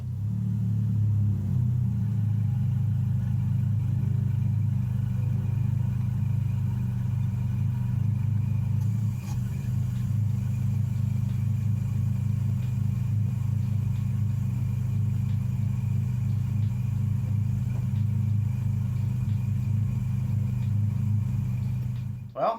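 A car with a Nissan KA24ET turbo engine idles steadily, a close, constant low rumble lasting throughout with a brief knock partway and a clatter at the end, a voice faintly under it.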